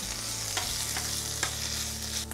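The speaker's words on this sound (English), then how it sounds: "Get this burger right there. Some heat on the onions." A burger patty and onions for a patty melt sizzling on a hot pan, a dense steady frying hiss with a few soft crackles and a low musical tone underneath; no one speaks.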